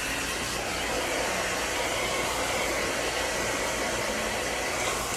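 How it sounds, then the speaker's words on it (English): A hair dryer blows steadily and loudly throughout while a child's coily hair is dried and detangled, a constant broadband whoosh with no talk over it. "you want to keep detangling it while you're blow drying it with your fingers"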